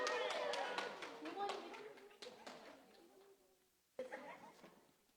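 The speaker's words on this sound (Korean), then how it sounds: "박수 주세요" Brief burst of hand clapping in a church Sunday service, a handful of claps that fade out over a few seconds, then a single sharp clap, faint and close, with voices speaking around it.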